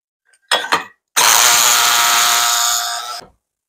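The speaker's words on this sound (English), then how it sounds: "We're going to go ahead and drill that out real quick" A power drill drilling out a baseball bat barrel gives a short burst, then whirs loudly and steadily for about two seconds before winding down.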